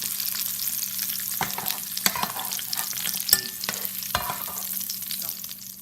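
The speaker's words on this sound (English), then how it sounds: "I'm sauteing red peppers in olive oil for about 2 minutes" Red peppers sauté in olive oil with a continuous crackling sizzle, punctuated by several sharp clacks and scrapes of stirring in the pan, with no voices.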